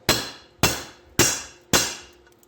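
Four sharp, evenly spaced hammer blows strike a spot-welded part on a 1976 Dodge D100 pickup, each a loud metallic crack that rings out and decays before the next.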